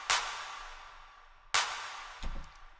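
A trap-style clap sample from a beat production hits twice, sharp and bright, about one and a half seconds apart, each with a short decaying tail and nothing else around it.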